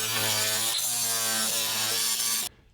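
A closet shelf board is sawn to length, with a steady, loud rasping cut running continuously for over two seconds before stopping abruptly, leaving near silence.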